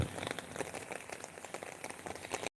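Rain falls in a village, a dense steady patter of drops on surfaces, fairly soft and continuous for a couple of seconds before cutting off.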